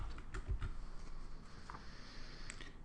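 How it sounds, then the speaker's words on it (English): A search keyword is typed on a computer keyboard into a database search bar, a short run of soft, quiet key clicks in irregular rhythm, close and faint. "So I'm going to type in dating in the second search bar."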